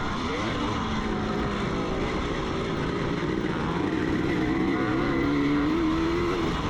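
A race car is pushed hard through third and fourth gear on a field course during a farm memorial race. The engine roars loud and close without a break, rising in pitch toward the end, with no speech.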